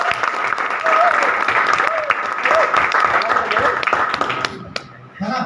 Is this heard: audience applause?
yes